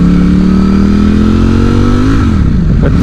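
A Ducati Streetfighter V4 or Triumph Speed Triple 1200 RR sport motorcycle engine pulls hard and loud, its steady rising tone climbing smoothly for about two seconds before dropping as the throttle eases.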